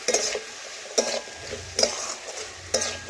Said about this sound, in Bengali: এইভাবে নাড়াচাড়া করে রান্না করতে করতে দেখুন সবজি অনেকটাই সেদ্ধ হয়ে গেছে প্রায়।